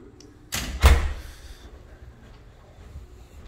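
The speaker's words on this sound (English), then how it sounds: "this is walking through the front door" The front door of a high-rise apartment opens and shuts with two heavy thuds close together, followed by a quiet settling rattle and a low room hum.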